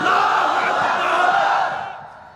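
A large crowd roars the slogan Naraye Takbir in unison, a loud, close, sustained collective shout lasting about two seconds before fading out.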